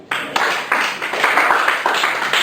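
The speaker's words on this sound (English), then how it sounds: "Let me get a soul clap real quick" A small open-mic crowd claps along in a loose, scattered soul clap, with uneven bursts of hand claps rising and falling close by for a couple of seconds.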